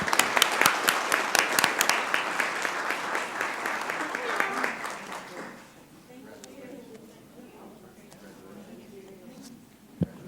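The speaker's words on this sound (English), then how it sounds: "Let's give them a round of applause, folks." An audience at a Columbus, Georgia city council meeting applauds a proclamation for about five seconds, with dense clapping that then fades into quieter room murmur and voices.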